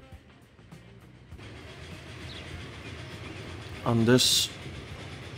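A passenger train riding through the Transport Fever 2 game world, a steady rolling rumble with faint clickety-clack beneath someone talking briefly over it.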